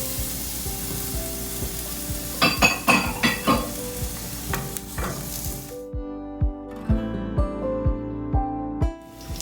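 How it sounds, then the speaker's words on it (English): Onion and garlic frying in oil in a pan for Spanish rice, a steady close sizzle broken by a series of rhythmic clacks and scrapes from stirring or turning the pieces. "And this is where we're going to fry the onion and the garlic."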